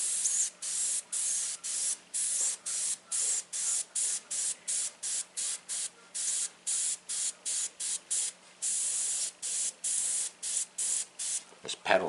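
Airbrush spraying paint onto a rose design, loud steady hissing bursts in rapid repeated pulses of about half a second each, separated by brief gaps, close to the microphone with no talk.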